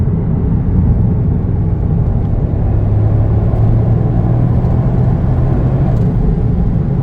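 A Toyota Yaris GR drives along a road, its engine a steady, loud low drone with a faint whirring tone; no distinct turbo blow-off burst stands out.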